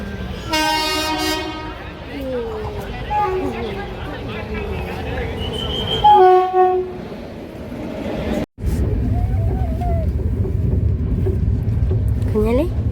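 A train pulls into a station, its horn sounding in a long harmonic blast near the start and again midway, with rumbling carriages beneath, a voice and adult talk over it.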